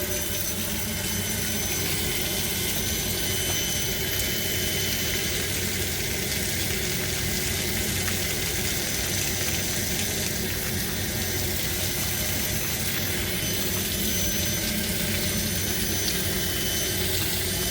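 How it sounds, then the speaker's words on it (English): A recirculation pump on a newly installed 100-gallon water heater spins with a steady, dense whooshing hum, constant and fairly close throughout with no pauses. "The recirc pump spinning."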